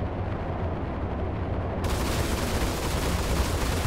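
Missile launch from a spaceship in the Star Citizen video game: a sustained loud roaring blast that swells abruptly partway through into a bright, hissing full-band rush, dense and continuous with no talk over it.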